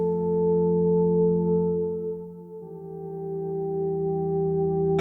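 Synth tone run through a stereo reverb pedal with the reverb blended in, a steady sustained chord with a long wash of tail, dipping briefly midway then swelling back, loud and alone.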